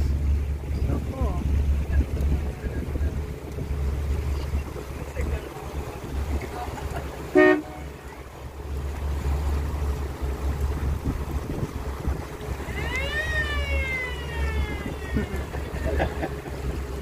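A river cruise boat on the water gives a steady low engine drone with wind buffeting the microphone throughout, while faint voices and a brief sharp clatter come through near the middle.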